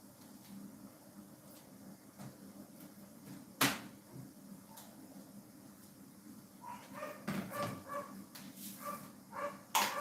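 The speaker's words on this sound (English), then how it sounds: "He's over there barking his head off." Slim, a dog, barks repeatedly somewhere in the room, a bit distant and fairly faint, with a sharp knock early on and clusters of barks growing denser toward the end.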